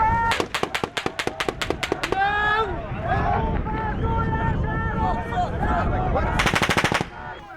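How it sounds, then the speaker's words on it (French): Soldiers in Palestine fire a salvo of live rounds into the air: a rapid string of sharp, loud shots, then a stretch of voices and commotion, then another dense burst of gunfire near the end. "les soldats tirent une première salve"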